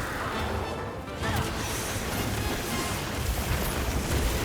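Rumbling blasts and crashing impacts from monster explosions in the game Monster Hunter Wilds roll on steadily at close range, with a heavier hit after the first second.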